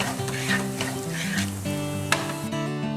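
Whole spices for mutton haleem sizzle and crackle in a hot pan, close and steady, with stirring scrapes and a sharp clink of a utensil partway through, no voices.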